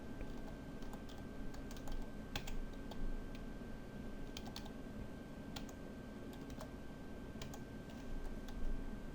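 Steady typing on a computer keyboard, fast irregular clicks close by over a constant background hiss, with no voices.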